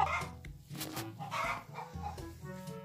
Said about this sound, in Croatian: Kokoš, Kokoška, gdje ćeš?